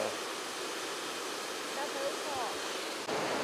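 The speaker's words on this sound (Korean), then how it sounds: "전망대에서 보는 폭포는 이렇게 떨어집니다" Steady broadband roar of a waterfall heard from an observation deck in Banff, Canada, a continuous even wash with distant rushing character and faint background sounds.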